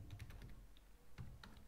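Soft, quiet clicking of computer keyboard keys in irregular bursts while someone enters a search for translation services in a cloud console, with no voices present.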